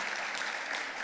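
Brief burst of audience applause at an education foundation dinner honoring teachers, a dense, fairly faint patter of many hands clapping, steady for about a second with no voices.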